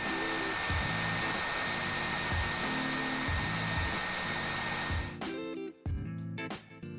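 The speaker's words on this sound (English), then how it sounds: "Heat the flap up until it softens up." A heat gun blows steadily as it warms a vinyl skin flap for a Samsung Galaxy A50/A30 phone, giving a constant airy roar with a few brief dropouts near the end.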